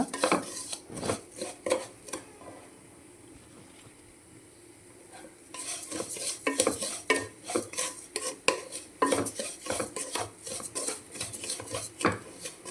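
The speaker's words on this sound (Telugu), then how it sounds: "మంచిగా గోధుమ రవ్వ అనేది వేగిపోయింది. ఇంకొంచెం వేగాలన్నమాట." Broken wheat rava roasting in ghee in a pan is stirred with a utensil, producing close, repeated scraping and clinking strokes over a soft sizzle, with a short quieter pause partway through.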